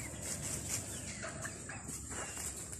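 Chickens on a small farm cluck softly in a steady, low, noisy background, with no talking.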